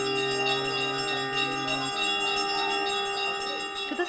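Bells ring in a temple sanctum during prayers, a bright sustained metallic ringing with repeated strikes that holds throughout, with a low hum dropping away partway.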